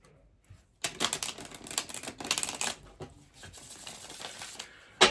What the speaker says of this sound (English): Just give the cards one more shuffle.